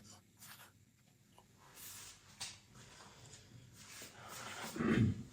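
A pen writing on paper to draw a Born-Haber cycle diagram, soft intermittent scratchy strokes close up, growing louder toward the end.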